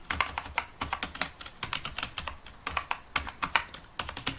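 Fast typing on a computer keyboard in Microsoft Word, a quick close run of light clicking keystrokes with brief pauses and no talk.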